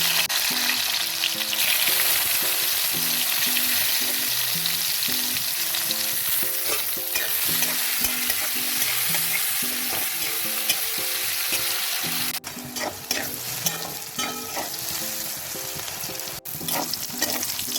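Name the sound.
brinjal pieces frying in hot oil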